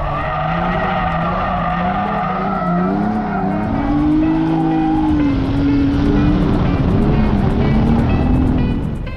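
A sports car on Chinese-made tires skids hard, with a long, loud tire squeal rising and falling in pitch over steady engine roar, continuous throughout with no talking.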